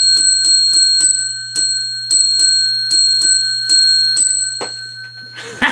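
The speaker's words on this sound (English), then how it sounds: "That's 10 rings of the bell, 1 ring for each 10 thumbs up" A little hand bell rings in quick bright strikes, about a dozen in uneven bursts, each leaving a ringing tone that rises to a loud clatter near the end; no voices.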